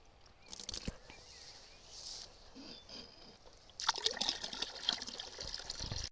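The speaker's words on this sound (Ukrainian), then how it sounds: "Ви спочатку заливаєте оприскувач воду, потім препарат, потім доливаєте водою до е, тої міри, скільки вам потрібно" Water pours into a garden sprayer tank, a faint trickle that swells into a louder, splashing gush partway through, close by with no talk.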